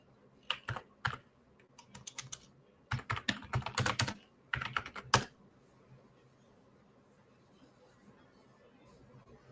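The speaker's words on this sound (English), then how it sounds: "Again I'm typing." Computer keyboard typing during a live software demo at a user group meetup, heard as several bursts of rapid clicking keystrokes separated by pauses, fairly close, with quiet room background between the bursts.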